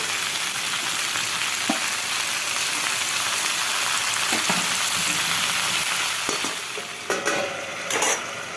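Malabar spinach leaves frying in a pan for a fish-head curry, a close, steady sizzle throughout with occasional utensil scrapes and clatter toward the end, no voices.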